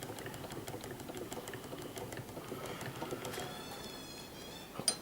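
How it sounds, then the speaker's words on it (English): A hand-wound sewing machine with a bullet-shaped bobbin runs steadily at close range, giving a fast, even mechanical clatter that stays quiet throughout, with a small sharp knock near the end. "that's how that one there goes"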